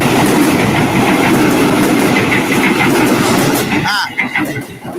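A train rolls along railway tracks as a loud, steady rumble with rhythmic clatter that fills most of the clip, then drops off sharply near the end. Voices can be heard over the noise.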